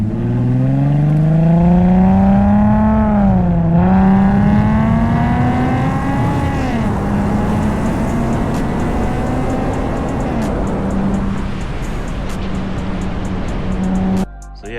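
A Nissan 370Z fitted with a Tomei single-exit exhaust revs loud and close, its engine note sweeping up and down through several climbs before settling into a steadier drone.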